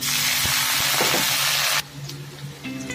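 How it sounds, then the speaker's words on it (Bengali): Crushed garlic hits frying onions in oil with a loud, dense sizzle that cuts off abruptly after about two seconds, leaving quiet pan clatter and a faint hum. "এর মধ্যে দিয়ে দিলাম রসুন থেতো করাটা।"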